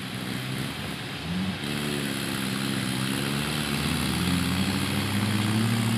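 A Mahindra Arjun tractor engine pulls a heavy trolley load, a loud continuous diesel drone that rises and shifts in pitch, blended with other engine noise nearby.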